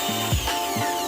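A small electric drill boring screw holes in a lamp cover, with short whirring bursts that spin up and stop twice in quick succession, close and clear.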